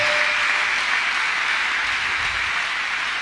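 Congregation at a church deliverance service clapping hands together, a dense continuous roar of applause, loud and even throughout without pauses.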